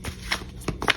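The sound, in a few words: shuffling tarot cards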